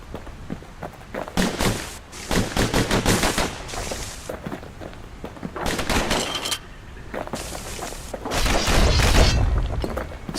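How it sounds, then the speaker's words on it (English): Dual slinger pistols fire in the action game Bastion in rapid, punchy bursts of shots, loud and close, separated by short pauses, with occasional thuds and booms mixed in. "what's better than having a slinger pistol in a fight? Having two. Kid's faster than a slinger with those guns."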